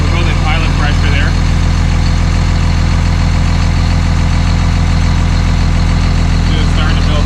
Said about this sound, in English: Just starting to build some pump pressure